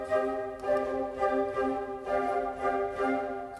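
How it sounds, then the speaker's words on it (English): Orchestral woodwind instruments play a soft, sustained melodic phrase of several smoothly joined notes, mellow and fairly close, with no voices. "So woodwinds are going to sound like this."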